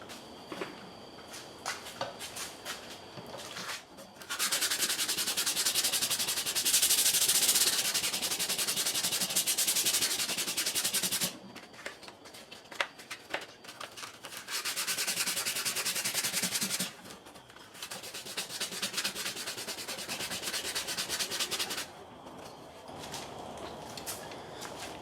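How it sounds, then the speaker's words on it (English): Sandpaper rubbing over gummy lacquer paint on a Gibson Firebird guitar body, in loud bursts of steady back-and-forth scrubbing separated by short pauses, close up. "You can put some tape over that when I start sanding around here."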